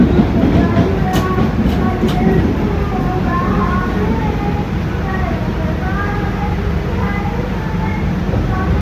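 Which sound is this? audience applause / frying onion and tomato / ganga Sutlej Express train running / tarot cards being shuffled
ganga Sutlej Express train running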